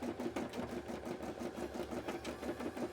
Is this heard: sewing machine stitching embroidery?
yes